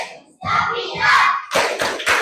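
Children clapping in rhythm to a classroom clap song, a handful of sharp group claps in quick succession mixed with chanted children's voices, close and loud.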